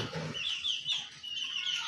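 A pet rooster kept on a household rooftop among other birds gives a few close, soft clucks and short calls, alone with no talking.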